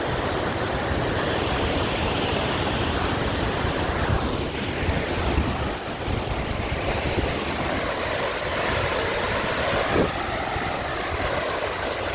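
Water overflowing the Bhakharvad dam pours down in a continuous, loud roar of falling water. The steady rushing wash never pauses and carries a faint windy hiss, with no voices.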